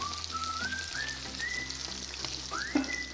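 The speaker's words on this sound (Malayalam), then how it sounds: "ഇപ്പോൾ എല്ലാം നന്നായി പൊരിഞ്ഞ് വന്നിട്ടുണ്ട്. രണ്ട് സൈഡും നന്നായി പൊരിഞ്ഞിട്ടുണ്ട്." Chicken pieces frying in hot oil, a close, steady crackling sizzle with occasional spits, joined by faint whistling tones in the background.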